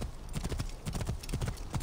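Steady clip-clop of horse hooves at a brisk trot, close and continuous, with a slightly synthetic game-like quality, from Assassin's Creed Origins.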